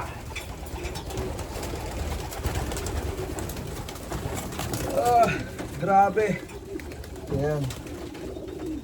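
Racing pigeons in a loft coo in repeated throaty, warbling calls, loud and close, with wing rustles and background noise; someone speaks briefly between the calls.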